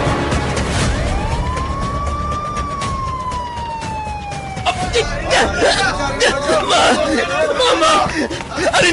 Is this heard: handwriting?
no